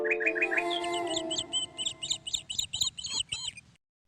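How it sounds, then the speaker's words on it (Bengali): Birds chirp in a green garden of mango, jackfruit and lemon trees and pumpkin vines, with a quick run of clear, high tweets followed by repeated fainter chirps before falling quiet. "এত গাছপালা, এত সুন্দর পাখির আওয়াজ"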